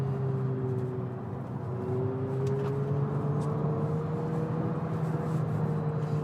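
Abarth 500e electric hatchback driving with its synthetic engine sound, a steady droning tone that rises gradually over continuous road and cabin rumble, heard from inside the car.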